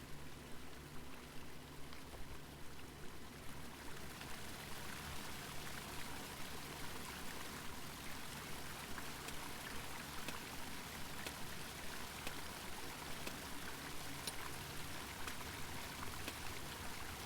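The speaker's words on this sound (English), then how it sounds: "That sounds like a lot of water." Flowing water in the video game The Longing, a steady, soft, continuous rush and trickle like a stream or pouring water, heard alone without talk.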